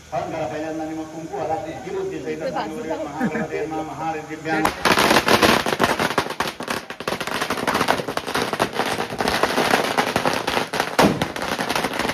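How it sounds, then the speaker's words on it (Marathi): A long rapid string of firecrackers bursts loudly and continuously after people chatter, crackling dense and close for several seconds, set off during a Punyahavachan ceremony in Konkan. "या साइडला फटाके लावतो"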